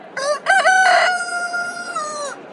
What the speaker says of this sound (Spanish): Inmediatamente cantó un gallo.